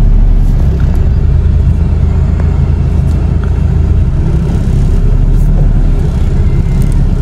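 A car engine idles steadily and close, its low rumble lifting slightly as the steering wheel is turned and the hydraulic power steering pump loads it; no one speaks.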